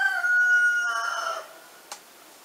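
A hoarse rooster crows once, close and loud, its rasping call fading away over about a second and a half, followed by a single faint click in quiet surroundings.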